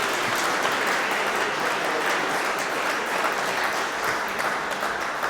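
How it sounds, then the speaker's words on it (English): Sustained applause from an audience right after an item is sold at a charity auction during a Chopin recital evening, steady and dense clapping throughout with no talk. "A huge round of applause."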